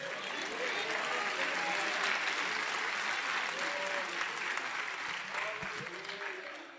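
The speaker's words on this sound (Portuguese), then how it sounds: "Aplauda o nome do rei aí, rapaz." A cathedral congregation applauds, a dense, steady roar of clapping from a large crowd with shouting and cheering voices woven through it, easing slightly toward the end.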